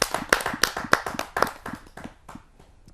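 Audience at a Hindi kavi sammelan claps to welcome a satirist poet, a burst of close, uneven handclaps in quick succession that thins out and fades over the last second.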